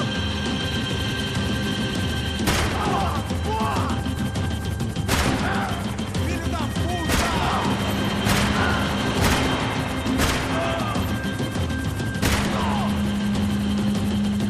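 Bursts of gunfire in the action video game Max Payne 3 during a vehicle chase, with sharp repeated shots cracking at irregular intervals over a steady engine drone, and shouting voices between them.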